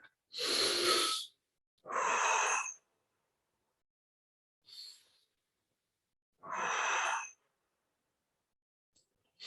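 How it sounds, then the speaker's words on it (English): Slow, deep breathwork: several long, loud close-up inhales and exhales spaced a couple of seconds apart, with a brief softer breath between them and silence in the gaps. "5 deep breaths"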